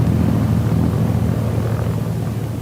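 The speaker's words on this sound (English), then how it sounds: "notes the return of the engine to its original sound and operation at 1700 RPM" A Catalina patrol plane's engine runs steadily at 1700 RPM during a magneto check, a loud, continuous low droning hum with no break and a slight fade toward the end.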